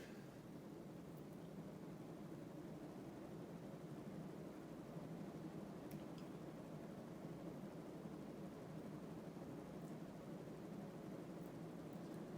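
A Thomas Industries T-12 Hugger ceiling fan running on high, a faint steady whooshing hum of moving air with no change in level throughout.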